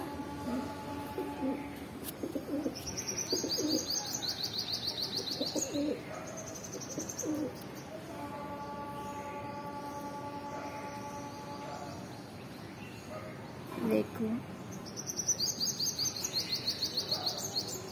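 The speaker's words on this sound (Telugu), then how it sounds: "వేకువజామున పక్షుల కిలకిల రావాలు." Birds at dawn around a home in Hyderabad near a temple: steady chirping and tweeting mixed with soft pigeon coos, fairly close and continuous over a low background hum.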